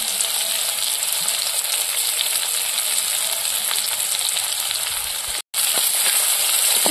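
Chopped onion and crushed garlic frying in oil over a clay stove, a loud, even, close hiss of sizzling that runs steadily with a brief cut near the end.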